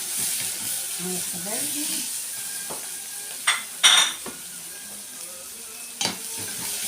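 Vegetables are stirred in a frying pot for soup over a low sizzle, with a few sharp scrapes and clatters of the spoon against the metal; someone speaks briefly at the start.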